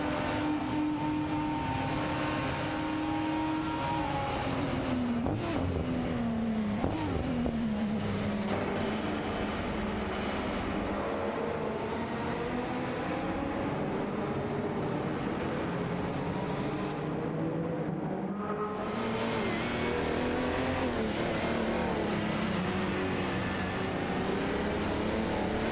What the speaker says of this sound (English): Bot Caffeinated Car has just zoomed past Bot Skeksis Beaupre, securing 6